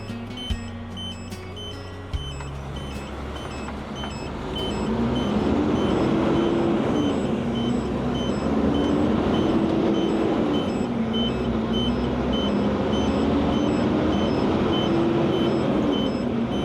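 Two tow trucks reverse with a steady, repeating electronic reversing beep, joined by a louder droning engine partway through that rises and falls, with no talk.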